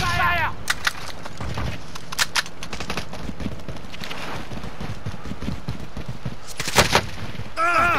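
Gunfire in the shooter game Warzone sounds as scattered sharp cracks and short bursts, some near and some distant, mixed with voices and other game noise.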